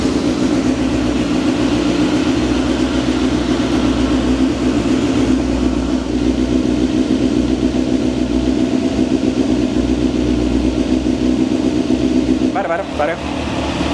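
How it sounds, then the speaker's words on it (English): A Honda CBR 929 motorcycle engine with a regulator rectifier problem, running nearby in a steady, loud, even drone with no revving, while a person talks over it. "So actually the bike is running fine"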